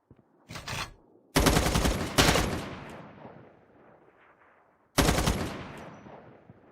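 Gunfire on a shooting-game training range: several rapid automatic bursts, loud and close, separated by short gaps with a fading echo tail after each.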